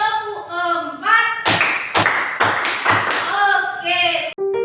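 Classroom claps in a counted pattern, with a teacher and pupils leading the fourth clapping routine. Several sharp, close hand claps land in an uneven rhythm, and children's voices talk and chant before and after.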